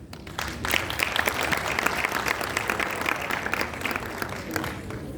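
Applause for Dr. Nkosi at a digital literacy training session, a dense burst of clapping from a roomful of colleagues that holds steady and close for several seconds without speech.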